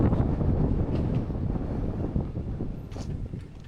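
Strong outdoor wind buffets a microphone in a continuous low rumble that rises and falls, filling the clip with gusty roar and no speech.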